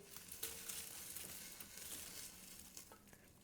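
Freshly air-fried Brussels sprouts from a Ninja Crispi Pro rustle and crackle faintly as they are moved, with soft sizzling and a few light clicks, close and quiet with no talking.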